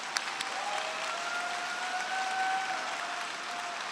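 Steady, sustained applause from a graduation audience at a College of Natural Resources ceremony, even and continuous throughout with no talk over it.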